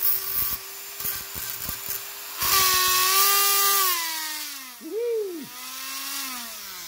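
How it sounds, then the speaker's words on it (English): A small high-speed rotary tool grinds the terminals of a Porter Cable 20V battery. The motor whines steadily and rises and falls in pitch as it bears down on the metal, with a few ticking contact sounds near the start. "the next thing I'm gonna do is grind these so that solder will accept better"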